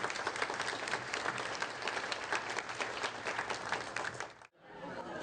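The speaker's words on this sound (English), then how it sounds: "a round of applause for everyone that is here this evening" Sustained audience applause fills a charity fundraiser dance night, dense steady clapping from a large crowd that stops abruptly near the end, leaving brief quiet before a faint new sound.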